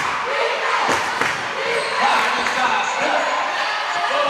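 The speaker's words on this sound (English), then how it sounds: "Crowd into it." Loud, dense crowd noise at a high school championship basketball game, cheering and shouting filling the gym with a few thuds and shoe sounds underneath.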